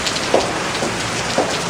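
Steady rain falls on a surface, a close, even hiss of dense drops with a few slightly louder spatters mixed in.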